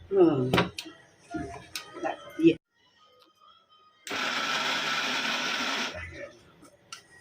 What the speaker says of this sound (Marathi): तर ह्याच मिक्सर मध्ये आपण आता ही कोळंबी वाटूया